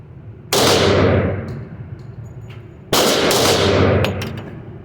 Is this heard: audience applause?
no